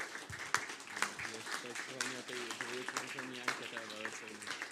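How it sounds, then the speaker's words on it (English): An audience at a tech summit claps for the team, a moderate spattering of applause beneath a voice talking throughout. "please, big applause for our team,"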